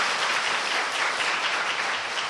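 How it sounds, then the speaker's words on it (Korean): A church congregation applauds warmly, a dense, even wash of clapping that holds steady throughout with no voices over it. "다시 한번 우리 이번 결신한 분들에게 뜨거운 박수를 드리겠습니다"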